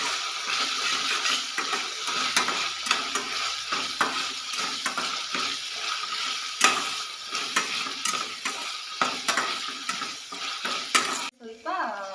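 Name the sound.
ginger garlic paste frying in a pan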